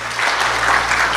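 A church congregation applauds together, a dense, continuous wash of many hands clapping that holds steady and fairly loud over a low electrical hum, with no voices heard.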